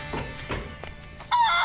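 Chickens on a barn-find property cluck in a few short close bursts, followed by a louder, higher crowing call near the end, with no talk.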